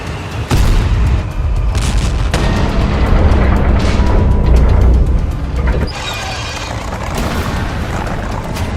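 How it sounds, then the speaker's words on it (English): Tank cannon fire and explosions in the tank battle game WOT Blitz during an ambush, with loud repeated booms and a heavy rumbling barrage that ebbs briefly and then picks up again. "other tanks begin to panic and fire back while trying to retreat from the ambush"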